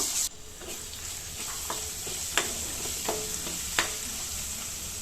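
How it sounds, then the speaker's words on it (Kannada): A spoonful of ginger-garlic paste frying in a pan for amla rice, with a bright, steady sizzle close up and a few sharp spatula taps and scrapes spaced across the stretch. "ಈಗ ಒಂದು ಸ್ಪೂನಷ್ಟು ಶುಂಠಿ ಬೆಳ್ಳುಳ್ಳಿ ಪೇಸ್ಟ್ ಹಾಕ್ಕೊತೀನಿ ಅದು ಅಷ್ಟೇ ಹಸಿ ವಾಸನೆ ಹೋಗೋವರೆಗೂ ಫ್ರೈ ಮಾಡ್ಕೋಬೇಕು"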